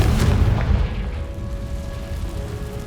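A Confringo blasting spell explodes in the Hogwarts Legacy video game, a loud, deep boom with a rumbling low-end tail that gradually fades over a few seconds.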